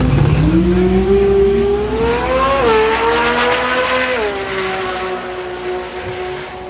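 A Toyota Supra drag car launches and accelerates hard at the TX2K drag racing event, its loud engine note climbing steadily in pitch with brief shifts as it pulls away over constant crowd and track noise.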